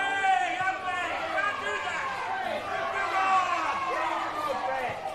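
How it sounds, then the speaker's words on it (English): A crowd at a local Australian rules football match in the Northern Territory shouts and jeers at the umpire, a sustained babble of many voices with rising yells, heard at a distance. "Here's the crowd telling the umpire how to go about it"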